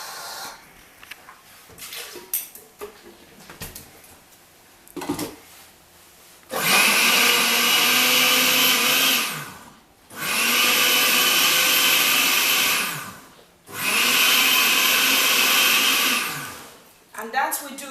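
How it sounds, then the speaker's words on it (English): A kitchen blender whirs loud and close in three long bursts, chopping fresh hot chili with a little water for pepper soup, with brief pauses and soft handling noises between runs. "I've got hot chili here, which I will quickly blend."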